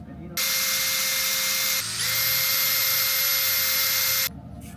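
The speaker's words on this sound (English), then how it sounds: "into the face of the bracket we're gonna drill this little guy, which is the mount for the camera" A power drill whines steadily at close range, boring a hole into the face of a metal bracket to fit a camera mount, with a brief pitch dip midway before it runs on and stops, all without talk.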